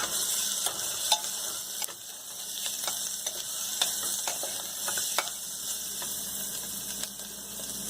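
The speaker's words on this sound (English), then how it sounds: "Now I'm going to add turmeric powder and red chili powder. Just saute it." Turmeric and red chili powder sauté in a hot oiled pan for a spinach corn rice dish, giving a continuous, close sizzle broken by light, irregular clicks of a stirring spoon against the pan.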